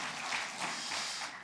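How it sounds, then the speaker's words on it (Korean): A church congregation claps in applause during a Sunday Lent worship service, a dense, steady wash of many hands lasting briefly, with no voices over it. "하나님 앞에 영광의 박수 올려드리겠습니다"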